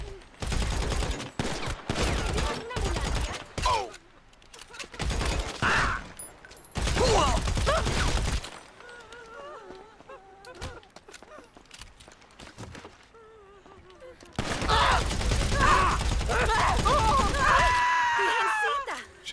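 Automatic gunfire in GTA 5 Online, a whole magazine dumped: several loud, rapid bursts separated by short pauses, with a voice and game noises between them.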